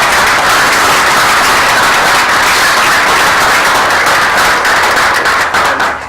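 Loud, dense applause fills a school board of education meeting, a steady wash of many hands clapping at once that continues without pause and tapers slightly at the end.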